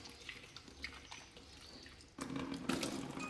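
Hands being washed and rinsed under a running tap during a clinical skills routine. Water trickles softly at first, then a fuller, louder stream gushes and splashes for the last second or so.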